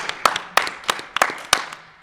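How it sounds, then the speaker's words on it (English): A small crowd at a live fantasy baseball podcast taping claps in a handful of sharp, spaced bursts, close and fairly loud, with little talk over it. "Give it a round of applause."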